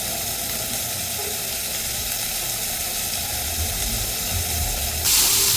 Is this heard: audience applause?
no